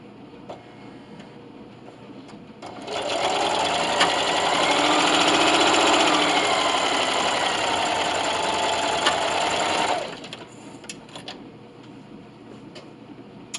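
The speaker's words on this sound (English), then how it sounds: "same straight stitch, same length, and I'm going to backstitch at the beginning and the end and sew directly on the line" A sewing machine runs a straight stitch along the corner of a self-binding receiving blanket, a close, steady whir lasting about seven seconds, with quiet handling before and after.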